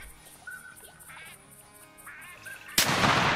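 Ducks quacking in a duck-hunting video game, several short calls spaced apart, then a loud 12 gauge shotgun blast near the end that rings out into a broad, sustained roar.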